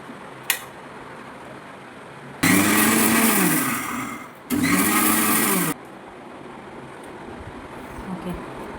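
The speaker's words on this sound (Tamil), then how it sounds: "மிக்சியில் ஆட் பண்ணி பவுடர்டு சுகராக அரைச்சிக்கலாம்" A mixer grinder whirs loudly in two long bursts, pulverising sugar into powdered sugar, with a brief pause between runs and the motor pitch dipping as it slows; quieter kitchen background before and after.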